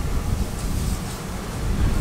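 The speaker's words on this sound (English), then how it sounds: "All right, it's pretty windy." Strong outdoor wind buffeting the microphone beside a farm sprayer, a loud continuous roar that swells slightly toward the end.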